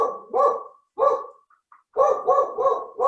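A dog barks in short bursts, a single bark, then another, a pause, and a quick run of three, clear and fairly close with quiet between.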